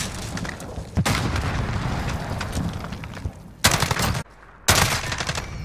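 A bomb explosion in Call of Duty MW: loud booming blasts and heavy gunfire fill the scene, with a brief drop to near silence before another powerful burst.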